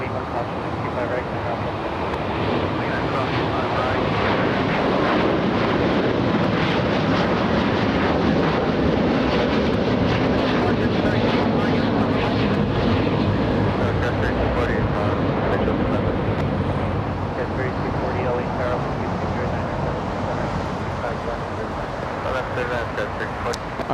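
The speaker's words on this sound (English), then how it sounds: "there goes Qatar flying to Doha City" A Qatar Airways jet takes off from LAX bound for Doha. A sustained, broad roar holds steady and loud throughout, with a wind-like rush over it.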